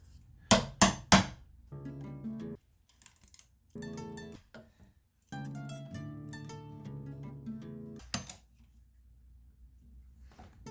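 A hammer strikes three quick, loud blows close up while a bed is being assembled, followed by quieter knocks and handling sounds and a final sharp hit.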